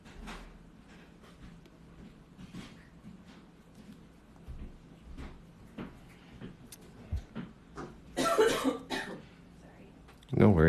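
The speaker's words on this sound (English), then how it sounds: "I have to apologize for coughing." A few sharp coughs and throat-clearing bursts near the end, after a quiet stretch of soft clicks and faint room noise.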